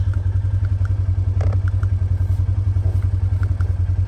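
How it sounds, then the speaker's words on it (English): An old Ford Ranger pickup with a new engine idles along a trail in low range, a loud, close, steady low throb with a fast even pulse and faint light rattles over it. "The old Ranger is still running great. Engine's just running awesome."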